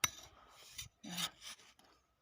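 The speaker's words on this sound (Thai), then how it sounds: "ใช้เสียมในการขุดค่ะ" A spade bites into dry, hard soil in a field, making a few short gritty scraping and rasping strokes, close and fairly quiet, with brief pauses between them.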